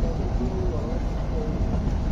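The Kalka to Shimla toy train runs along a turning mountain line, giving a low, continuous rumble of carriage and track noise heard from inside. It stays fairly faint and steady throughout.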